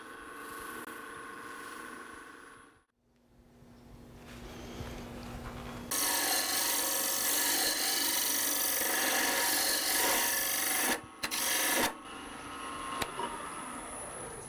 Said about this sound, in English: The friction creates the heat, and the heat burns the wax into the wood.